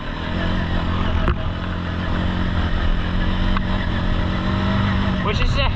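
An old Suzuki four-wheeler ATV on 29.5 Outlaw tires rides on trails, its engine droning steadily at close range with some clatter, and a sharp knock partway through.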